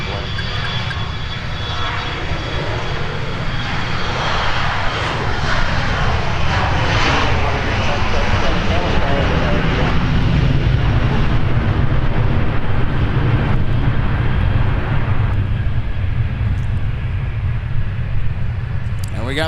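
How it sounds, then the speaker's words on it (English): An Endeavor Air CRJ jet takes off from runway 12 right at Minneapolis–Saint Paul airport, its engines a loud, sustained roar with a steady rumble that swells slightly midway, with a faint voice in the background. "we got the CRJ taking off on runway 12 right"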